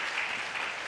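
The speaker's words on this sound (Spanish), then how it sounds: "Dale ese aplauso al Señor." A church congregation breaks into applause during a service, a short burst of dense clapping from the crowd in a reverberant room.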